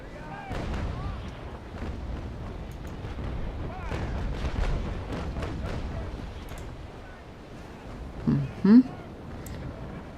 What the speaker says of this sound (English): let me see if I can bombard him